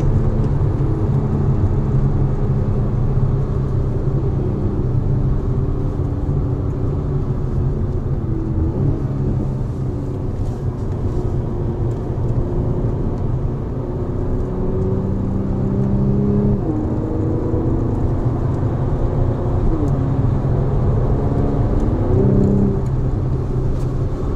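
A 2018 Mercedes-AMG C 43 coupé drives during a test session, giving a continuous engine drone with road and wind roar. The pitch wavers gently as it holds speed through curves.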